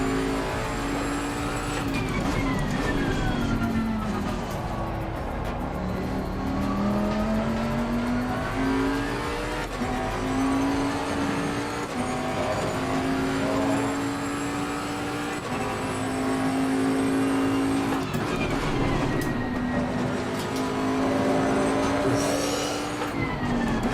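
A Bentley GTC race car in Assetto Corsa laps the Hungaroring, its engine loud and continuous, rising and falling through the gears. Upshifts and braking dips repeat through the clip, and no one speaks.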